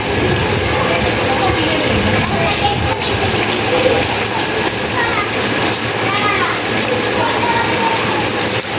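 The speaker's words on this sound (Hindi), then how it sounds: "तो फिर यहाँ बारिश भी हो रही बहुत ज़्यादा।" Heavy rain in Lahore pours in a dense, loud, continuous roar, with a rumbling background like traffic or a moving vehicle.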